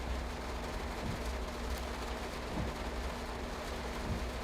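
Heavy rain in the Train Sim World 3 game, a dense, steady hiss over a low, constant engine hum, with a few faint dull thumps and no talking.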